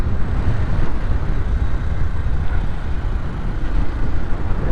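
Motorcycle riding along a mountain road on the way to Harsil Valley, giving a steady, loud low rumble of engine and wind noise throughout with no let-up.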